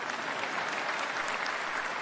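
Applause from the audience at a university commencement ceremony: a soft, even patter of many hands clapping, steady and somewhat distant, with no voices over it.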